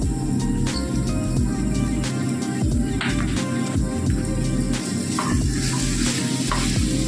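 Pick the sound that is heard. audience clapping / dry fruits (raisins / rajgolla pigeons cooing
dry fruits (raisins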